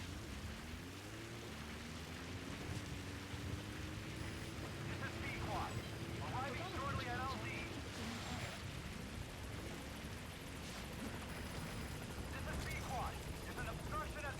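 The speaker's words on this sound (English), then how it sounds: "Support helicopter has arrived." Support helicopter arriving in the video game Metal Gear Solid V: The Phantom Pain, a low rotor drone rising in pitch and holding steady under rain-like noise, with speech present in the clip.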